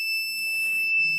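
A homemade fire alarm sensor's buzzer sounds a steady, piercing electronic tone that holds loud and unbroken for the whole moment, with no voices.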